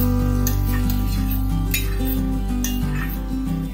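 Fresh cream being stirred into paneer bhurji in a pan, with soft scraping and clinking of a spoon against the pan, heard under steady background music.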